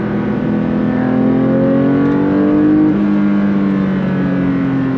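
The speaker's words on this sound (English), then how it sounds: "every time you hit that throttle pedal, it just sends chills down the back of your spine." A 2024 Porsche 911 S/T with a six-speed manual and six individual throttle bodies accelerates on a forest road, its engine note climbing loud and steady, then dipping briefly at a gear change before pulling again.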